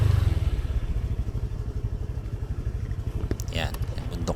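A motorcycle idles with a steady, loud, close-up chugging pulse on a mountain road in Benguet, then clatters briefly as it is shifted aside to park, and a voice speaks over the engine.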